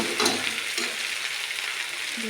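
Dal frying in a pan is stirred, giving a steady, close sizzle with soft scraping throughout.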